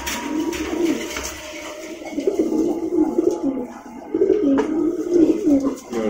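Pigeons at a pigeon farm coo in soft, repeated low calls that overlap from several birds nearby, with faint background movement and a murmur of voices.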